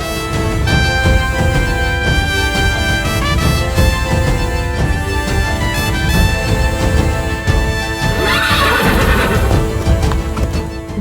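A horse neighs and whinnies over the clip-clop of galloping hooves, loud and close, set against dramatic orchestral music that plays throughout.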